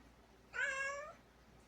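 A house cat lets out a single clear, drawn-out meow, fairly close and faint, in a quiet room with no talking.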